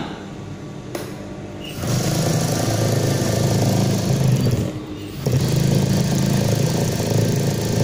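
A motorcycle engine, run during an alternator and ignition check, fires up and settles into a steady, fairly loud idle hum, with a brief dip before it resumes running.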